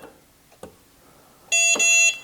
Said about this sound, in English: it should beep twice at the end